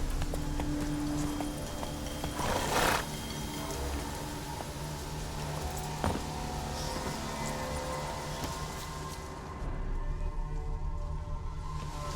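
Roach the horse trotting in The Witcher 3, a steady clip-clop of hooves carrying through the whole stretch with game ambience and a faint rain-like wash behind it.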